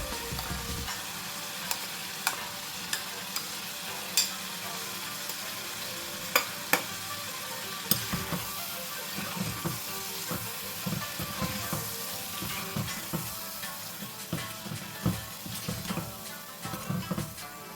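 Green Thai curry paste fries and is stirred in a pan, giving a steady crackling sizzle broken by irregular scrapes and clinks of the spoon, close and moderately quiet.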